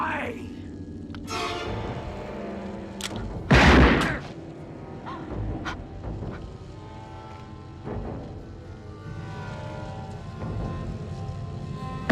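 A single sharp gunshot bursts out in a Chucky horror film scene, loud and brief amid tense dialogue, music and rumbling effects, with voices talking before and after.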